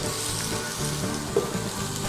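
Chopped ginger and a pinch of turmeric sizzle in hot oil with dal for lemon rice, a loud, close, even frying hiss with faint stirring scrapes and one small pop.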